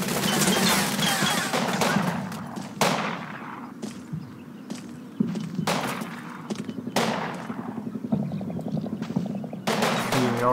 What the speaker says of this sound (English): whoever's still in that street is going to start getting shot